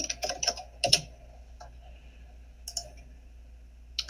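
Surname typed on a computer keyboard: a quick flurry of crisp key clicks, a pause, then a few more scattered taps, close and clear in a quiet room.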